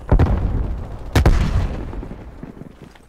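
Grenade explosions in a video game: two loud, booming blasts about a second apart, each followed by a rumbling decay, with no talking.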